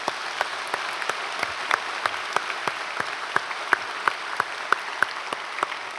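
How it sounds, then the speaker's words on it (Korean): Congregation clapping at a Korean church special dawn service, a steady rhythmic applause with sharp regular claps over a dense wash of hands, sustained and fairly close throughout. "영광의 박수 올려드리겠습니다"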